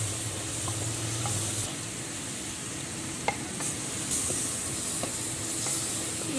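Tomatoes cooking down with salt in a pot for potato and aubergine sabzi, an even sizzling hiss with occasional spoon taps and stirring clatter, a low hum fading out early.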